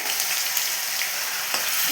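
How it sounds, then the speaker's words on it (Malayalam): Steady, bright sizzling of ginger garlic paste frying in hot oil, with a few soft stirring scrapes and no talking. "ഇഞ്ചിയും വെളുത്തുള്ളി ഇപ്പോൾ ഇവിടെ മുരിഞ്ഞ് വന്നിട്ടുണ്ട്"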